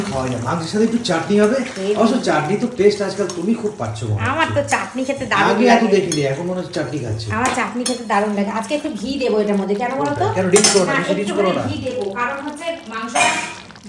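Metal puja utensils are scrubbed and washed by hand, with repeated clanks, clinks and scraping of metal against metal. Someone talks throughout, over the clatter.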